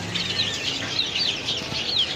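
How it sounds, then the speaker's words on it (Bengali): Chickens and chicks at a crowded bird and poultry market in Kotbari, Cumilla, repeated high cheeping and clucking over steady market background noise, fairly close and continuous. "এখানে বিভিন্ন মুরগির বাচ্চা দেখা যাচ্ছে"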